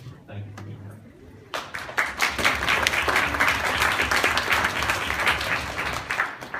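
Audience applause at a farmers' community panel event on the Upper East Side swells after a quieter start and stays as dense, steady clapping from the crowd, with a little talk at the beginning.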